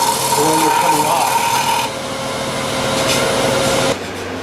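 A hollowing tool shears continuous shavings from a wood turning on a lathe with a loud rasping scrape, close up. It changes tone midway and drops off sharply near the end.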